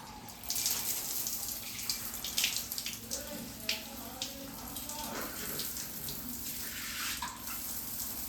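Water running steadily while shampoo is rinsed out of hair, a continuous splashing flow with irregular spattering and dripping as hands move through it, close and moderately loud; no speech.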